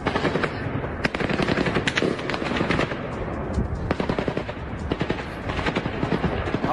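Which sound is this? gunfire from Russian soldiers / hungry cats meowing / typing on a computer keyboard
gunfire from Russian soldiers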